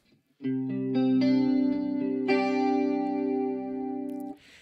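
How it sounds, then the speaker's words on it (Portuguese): A clean electric guitar through a compressor and chorus pedal rings out in sustained, shimmering chords that change a couple of times, even and loud with a gentle warble, played alone before a quick cutoff. "Você está no teu som limpo usando um compressor e usando um chorus, né?"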